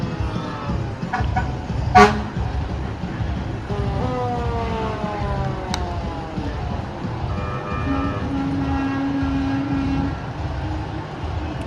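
Fire truck horns honk repeatedly at a Santa Claus parade, with long sustained blasts and a siren-like wail over a steady crowd and street din, one sharp loud burst standing out near the start.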